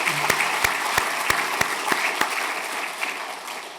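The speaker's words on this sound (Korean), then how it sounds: "우리 사랑하는 자녀들 위해서 큰 박수로 격려해 주시면 좋겠습니다" A church congregation at a Sunday service claps for the children: a run of about seven sharp, evenly spaced claps in a steady rhythm over a diffuse roomy background, which thins out toward the end.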